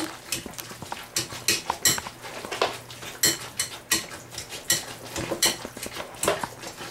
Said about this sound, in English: And so we'll mix those spices in. You want to mix them in really well.